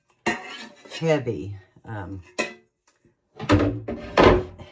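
Heavy skillets and pots clank and knock as they are stacked into a kitchen cabinet, several bursts of metallic clatter separated by short pauses.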